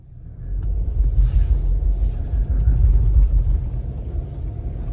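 A Subaru Outback Wilderness pushes through unplowed snow at a steady 2000 RPM, giving a constant low rumble of engine and tires with a faint airy hiss over it.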